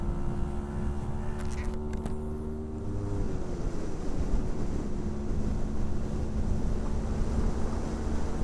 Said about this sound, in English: this engine is sounding pretty sweet